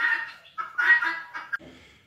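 Harsh, rhythmic guinea fowl calls repeat in close succession, loud and near, with no talking.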